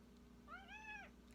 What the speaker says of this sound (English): That's my cat Nala.